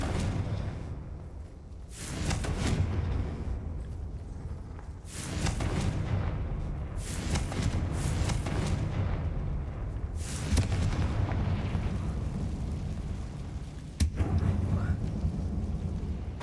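A Confringo spell blast in a Harry Potter video game lands as a series of deep booming explosions with rumbling tails, loud and close, spread across the whole stretch with a sharp crack near the end.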